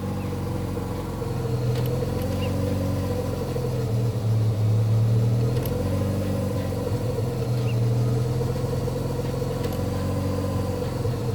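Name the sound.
Mazda RX-7 FC street port engine idling, brake booster vacuum leak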